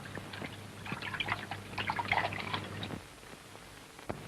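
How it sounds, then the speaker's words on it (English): Water running from a spring in the countryside, a lively trickling and splashing flow for about three seconds, then quieter drips, with no talking. "Here he is measuring the flow of water from a spring with the help of a stopwatch."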